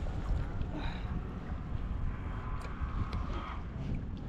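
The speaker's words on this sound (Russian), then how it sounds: "Ветер есть, ну, не могу сказать, что прям он так он сильно напрягает, но все равно есть." Wind blowing steadily across a riverbank by the Oka river, a broad continuous rumble buffeting the microphone, fairly loud and unbroken throughout.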